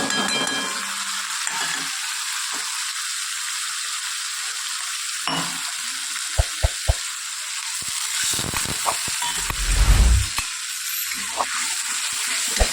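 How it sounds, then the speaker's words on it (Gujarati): Spices and asafoetida sizzle in hot oil for a Gujarati tempering: a continuous frying hiss with a few sharp clicks and pops, and a brief louder burst near the end. "આપણે પહેલાં વઘાર કરી દઈએ. તેમાં હિંગ નાખીએ, લીંબુનો રસ"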